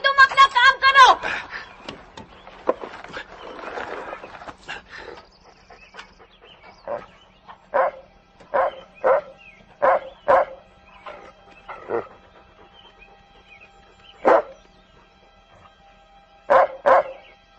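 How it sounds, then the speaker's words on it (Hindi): A dog barks in a Hindi-dubbed film scene, giving a run of short, sharp, evenly spaced barks after some earlier talking and noise. "तू क्यों भौंक रहा है?"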